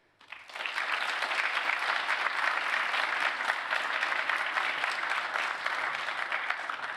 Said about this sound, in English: Another round of applause for all of our partners,